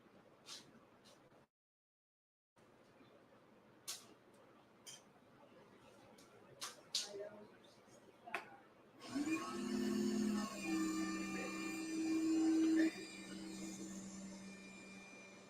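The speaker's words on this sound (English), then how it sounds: "So I'm going to run the lathe backwards." Wood lathe spinning in reverse on a glitter resin pen blank, a steady motor whine that starts partway through and holds, with light ticks and a quiet spell before it.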